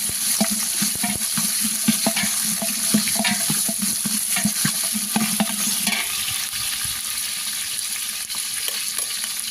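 Onions, ginger, garlic and tomato fry loudly in a pan while being stirred for a meat feast, a steady hiss and sizzle broken by repeated scraping strokes, close and continuous.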